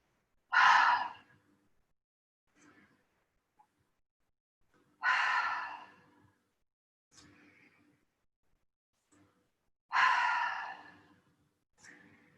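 Deep breaths during a yoga back-bend flow come as three long, strong exhalations about five seconds apart, close and clear, with faint inhales between them and no talking.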